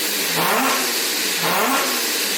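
A Mazda RX7 fitted with a three-rotor engine and a new exhaust revs hard and close up, rising and falling in two strong surges with a raspy, buzzing rotary tone.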